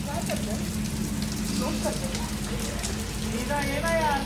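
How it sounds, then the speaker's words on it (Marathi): Heavy downpour at Lonavala hisses steadily as broad rainfall, with a person's voice talking over it and higher voices toward the end. "नाही जमणार आहे मला एवढ्या गार पाण्यात धो पावसात जायला."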